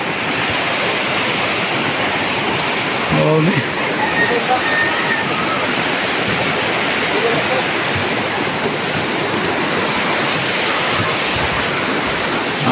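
Heavy rain pours in a rural province setting, a dense continuous roar of water that stays loud and even throughout, with a man's brief exclamation near the start.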